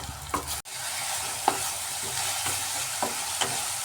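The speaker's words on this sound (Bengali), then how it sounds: "পেঁয়াজটাকে মিডিয়াম হিটে একটু কালার চেঞ্জ হওয়া পর্যন্ত ফ্রাই করতে হবে এইভাবে" Onion frying over medium heat in a pan, a steady close sizzle broken by several scraping stirs at regular intervals and one sharp knock early on; no talking.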